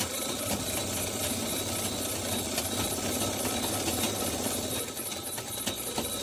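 A sewing machine runs a steady double line of stitches on a katori blouse, with a continuous close mechanical whir and rapid needle clatter at an even, unbroken pace and no talking.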